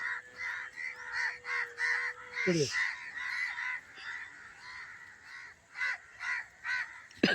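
Crows cawing overhead: a rapid run of harsh, close caws repeating throughout, over a faint steady tone that breaks off partway with a brief rasping sweep.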